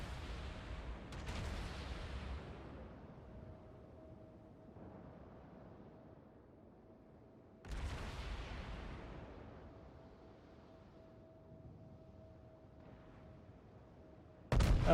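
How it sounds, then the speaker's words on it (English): Battleship guns fire salvos in World of Warships, with three heavy booms spaced several seconds apart, each rolling out into a long fading rumble, loud and alone without speech. "And this salvo will probably kill the Iowa."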